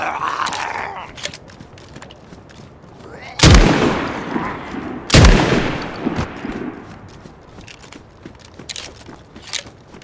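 Gunfire from the video game DayZ comes as two loud, booming shots a couple of seconds apart, each trailing into a long echoing tail, with fainter clicks and handling sounds around them and brief talk.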